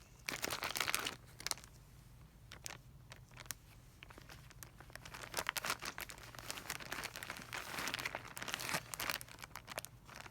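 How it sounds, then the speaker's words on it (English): Close, faint crinkling and rustling of plastic, in irregular crackly bursts as it is handled and folded. "Take the whole thing and put it in a plastic bag."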